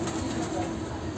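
Pakistani-bloodline pigeons in a breeder's loft in Khar West, Mumbai, give a low, steady cooing close by, a continuous murmuring burble lasting the whole brief moment.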